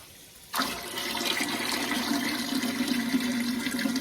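Water rushes steadily from a tap into a large All American 930 pressure canner pot, starting abruptly and continuing as a loud, even pour with a rising fill tone and no talk.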